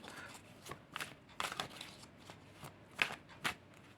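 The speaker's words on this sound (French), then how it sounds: "on va commencer tout de suite à battre les cartes." A deck of tarot cards is shuffled by hand, giving soft, close riffling bursts several times in a few seconds, quiet against a still room.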